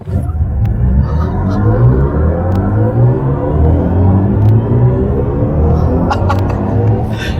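A 2025 BMW i5 M60 electric sedan accelerating hard from a standstill in boost mode, heard from inside as a loud, steady low rumble and rising whir of road and motor noise for several seconds.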